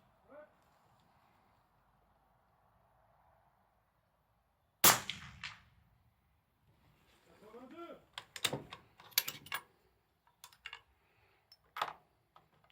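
A single sharp suppressed gunshot from a silenced firearm cracks once close by, followed by scattered clicks, handling noise and brief talk.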